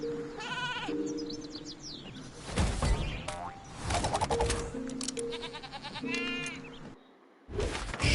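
Sheep Creep, an enemy in the Skylanders Trap Team video game, gives several warbling bleats between springy boings and clacking game effects, loud and close with short pauses between bursts.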